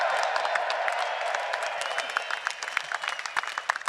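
A large crowd of golf fans at the 2023 Ryder Cup in Rome applauds steadily with scattered cheers and whoops, dense clapping filling the space throughout at moderate loudness.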